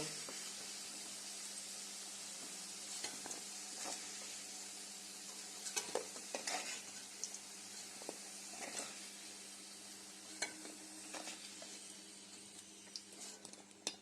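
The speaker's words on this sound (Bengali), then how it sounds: "আলুটা তোলা হয়ে গেলে আমরা এই তেলে পটলটাকে ভেজে নেব" Pieces of pointed gourd (potol) fry in hot oil in a kadai, giving a steady, close sizzle with scattered spatter pops and light stirring clicks throughout.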